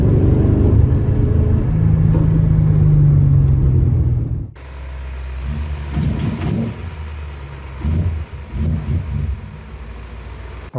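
A BMW E31 with a swapped-in S62 engine, out on its first test drive, roars with a steady, loud rev for about four seconds, then settles into lower engine rumble with short surges as it drives on.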